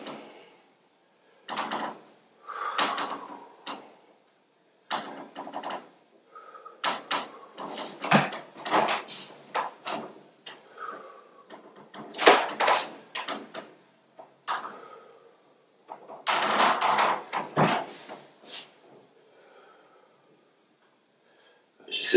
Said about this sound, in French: J'essaie de changer de position parce qu'il y a le parquet qui grince là.